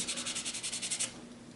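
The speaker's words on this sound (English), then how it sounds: "you can come back in and you can do your sanding" Rapid back-and-forth sanding strokes on plastic model parts rasp in a quick regular rhythm, close up, then trail off into softer rubbing.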